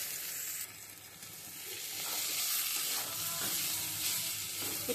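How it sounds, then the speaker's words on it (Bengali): Eggs go into an egg curry frying in a pan, a steady close sizzle and hiss that swells slightly louder midway and continues without pause, with no talking. "এখন আমি ডিমটা দিয়ে দেবো।"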